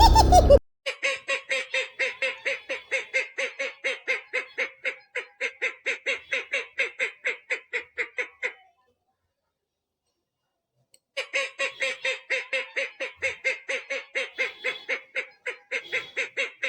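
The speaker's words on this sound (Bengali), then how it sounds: "হাঁসগুলো প্যাক প্যাক প্যাক প্যাক করে আহ্লাদে কেমন হাঁটছে।" Ducks quack in rapid, evenly pulsed runs of nasal calls, loud and close, in two long bursts separated by a few seconds of silence.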